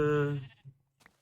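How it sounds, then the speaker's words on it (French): A Minecraft sheep gives one clear, drawn-out bleat up close, fading into a few faint clicks. "Mouton noir. Mouton blanc."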